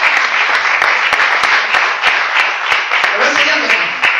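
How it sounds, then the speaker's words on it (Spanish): Church congregation applauding the Lord during a sermon, a sustained crowd clapping with sharp individual claps standing out and voices mixed in underneath. "¿Cuánto tenga que dar un aplauso al Señor?"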